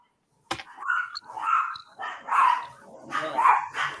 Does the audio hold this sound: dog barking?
yes